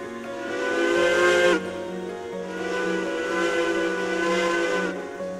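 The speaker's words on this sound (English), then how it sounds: "That's a horrible whistle." Steam locomotive whistle in the train game Railroads Online, a loud, harsh multi-tone chord that blows for about a second and a half, breaks off, then sounds again in a long sustained blast over a steady hiss of steam.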